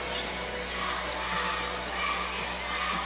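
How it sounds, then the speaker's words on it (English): A crowd fills a school gym during a high school basketball game at Boyd County Middle School, with a steady murmur of cheering and shouting voices and occasional thuds, moderately loud and continuous. "Good crowd on hand here at Boyd County Middle School."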